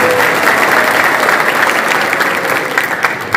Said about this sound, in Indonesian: Tepuk tangan untuk siswa.